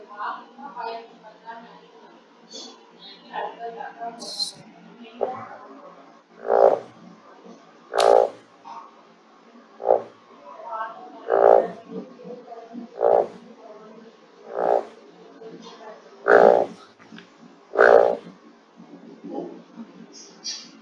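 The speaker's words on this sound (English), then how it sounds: "the next one is called painted balloon frog" A painted balloon frog calls repeatedly outdoors, a series of regular, resonant croaks spaced a second or two apart, fairly close and distinct against a quiet background.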